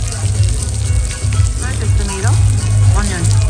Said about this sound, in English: it's still sizzling